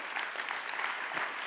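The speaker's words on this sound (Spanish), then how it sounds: "no aplaudas tanto, no aplaudas tanto" Audience applause at an award ceremony for the Chuana Coscujuela prize, a brief burst of steady dense clapping from a hall crowd, fairly even in loudness.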